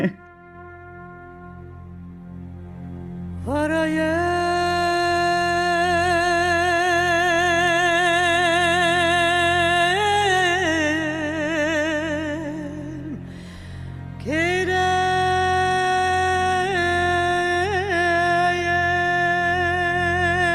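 Music from a new album: a sustained, wavering melodic line over a steady low drone, entering after a few seconds of quiet, pausing briefly, then resuming, clear and prominent.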